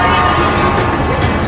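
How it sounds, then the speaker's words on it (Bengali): The Saraighat Express at Howrah station gives off a loud, dense, continuous rumble and roar close by, holding steady for the whole short stretch with no clear breaks. "এই যে পাশে ট্রেনটা দেখতে পাচ্ছ, এই যে এটাই হচ্ছে সরাইঘাট, যেটা করে আমরা আসলাম।"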